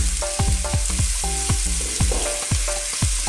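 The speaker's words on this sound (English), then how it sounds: "I'm going to just drop in my butter and my salt and pepper, and straight away my onions." Onions fry in butter with salt and pepper in a soup pot, a steady close sizzle broken by repeated scraping stir strokes from a utensil.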